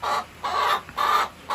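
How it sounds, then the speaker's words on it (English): Chickens clucking in three bursts with short pauses between, fairly close and moderately loud. "Crazy chickens."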